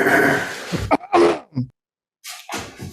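A close, abrupt sneeze-like burst with throat noises during a selectboard meeting, followed by a few more short explosive bursts after a brief silence.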